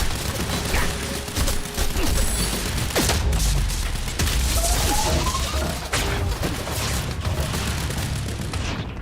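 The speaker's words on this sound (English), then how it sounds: "Oh, that's a fucking turret." Turret fire in a Remedy video game, a dense barrage of booms, crashes and thuds continuing throughout amid chaotic combat noise.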